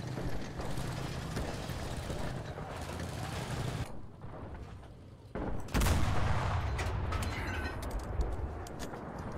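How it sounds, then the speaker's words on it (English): Machine gun fire in the Enlisted battle for Berlin, long dense bursts of rapid shots with mechanical clatter, pausing briefly before another heavy burst. "Get those machine gun rounds going."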